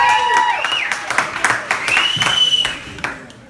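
Comedy club crowd clapping in scattered bursts under a comedian's voice, with shrill sliding whistle-like tones cutting through the applause and cheering.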